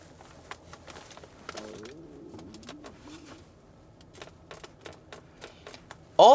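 A door panel creaks and ticks in a 2024 Cadillac Lyriq Sport3 AWD, giving a series of soft close clicks and a wavering groan in the quiet cabin, ending with an abrupt loud thump.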